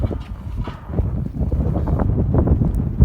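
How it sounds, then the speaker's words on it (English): Steady wind buffeting a microphone outdoors on a jetty at Whyalla, South Australia, a low rumbling roar with gusty fluctuations throughout. "Still windy."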